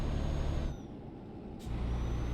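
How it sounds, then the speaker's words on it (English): A Volvo truck in Euro Truck Simulator rumbles with a steady low engine drone, which dips briefly in the middle as if easing off and then returns to a full hum, with a faint high tone above it and no voices. "This truck here, I'm driving the Volvo."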